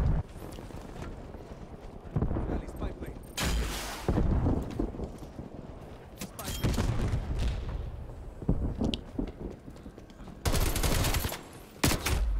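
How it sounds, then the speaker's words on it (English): Bursts of gunfire in the Call of Duty Black Ops Cold War video game, several loud broadband volleys scattered across the stretch with quieter gaps of game ambience between them. "Stop shooting."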